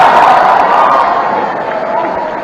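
Crowd applause with cheering at a public talk event featuring an Indian cricketer in Hyderabad, a steady, dense roar of clapping and voices that gradually eases in loudness.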